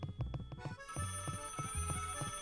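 A telephone rings somewhere inside a house in the Roblox game Alone, repeating in short rhythmic bursts over a low droning game background, with no one speaking.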